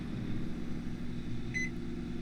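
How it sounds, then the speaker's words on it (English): A microwave oven in a cooking simulator game runs with metal inside, giving a steady, even hum. A short pair of bright electronic beeps sounds near the end. "I'm putting metal in the microwave"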